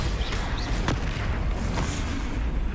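In the game Hogwarts Legacy, a Bombarda spell blasts with loud, rumbling booms over a continuous roar of noise, with sharp cracks standing out briefly.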